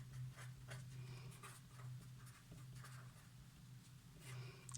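Marker or chalk strokes on a board during a mitosis lesson, a run of short scratchy squeaks and drags in an uneven rhythm, close and fairly faint, with a low steady hum underneath.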